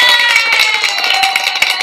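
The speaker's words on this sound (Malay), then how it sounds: "satu tepukan gemuruh kepada anda yang ada di sini" A crowd at a New Year's Eve talk gives loud, close applause, with fast, dense clapping mixed with a sustained tonal hum or music underneath and no speech.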